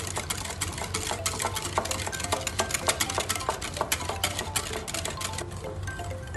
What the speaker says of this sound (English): Now I am going to add baking powder as well as baking soda and mix it.